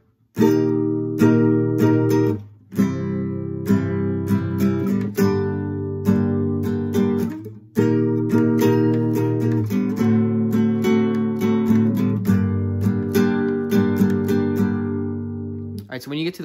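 Acoustic-style guitar playing the intro of a song, a steady run of strummed chords with brief pauses between phrases, close and loud with no talking.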